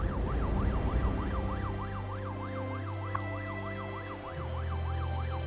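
A wailing police siren in Cities: Skylines II rises and falls steadily, loud and continuous, with a low engine rumble underneath and no talking.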